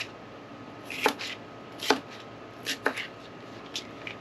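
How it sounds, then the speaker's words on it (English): A knife cuts peppers into fatter pieces on a cutting board during home preserving prep, giving about five crisp, separate chops spaced roughly a second apart, close and fairly quiet, with no talking. "So I just cut these like this, and then I cut them in little fatter pieces like this."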